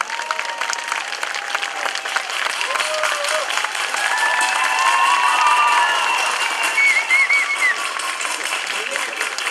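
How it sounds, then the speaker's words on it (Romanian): Audience applause for the Serbian folk ensemble Dunav from Svinița, Mehedinți, a steady dense clapping from a sizeable crowd that swells in the middle, with whistles and cheers rising above it. "pleacă acasă cu un pic mai multă experiență și cu multe aplauze din partea dumneavoastră."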